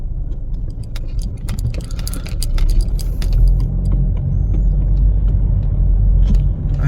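Heavy road traffic rolls past on a busy street in Kuwait, a loud continuous low rumble of car and truck engines with scattered sharper clicks and rattles on top, swelling slightly as vehicles pass close.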